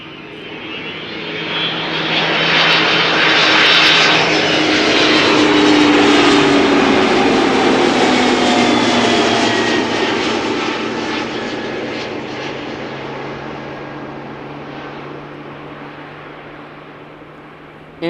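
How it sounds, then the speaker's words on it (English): A jet airliner arriving at Amsterdam Schiphol Airport passes close and loud, its engine roar swelling over several seconds with a whining tone, then slowly fading as it moves away, with no voices. "That sounded different than the first airplane."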